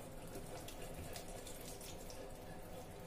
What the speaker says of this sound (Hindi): अब हम एक चलनी लेते हैं, उसमें इसको छान लेते हैं।